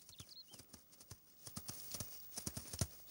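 Horses walking across an Alpine pasture in Austria, their hooves clip-clopping in an irregular stream of soft knocks, fairly quiet and close with nothing else prominent.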